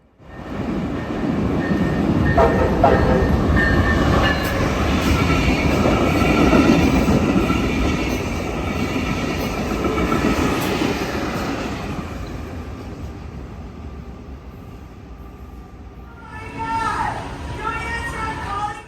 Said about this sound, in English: we caught Bright Blue coming north into West Palm Beach